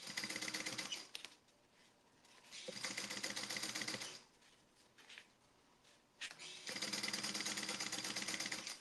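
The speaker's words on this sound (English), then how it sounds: "I'm sewing the edges that come together first" Sewing machine stitching together the edges of a fabric tote bag, running in three loud bursts of rapid, steady stitching separated by quieter pauses.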